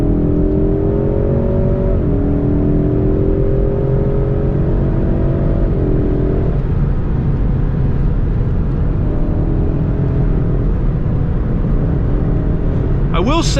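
A Ford Mustang with an EcoBoost engine pulls and revs steadily on a test drive, rising harmonic engine tones over constant road and cabin rumble, loud and close throughout with no talk.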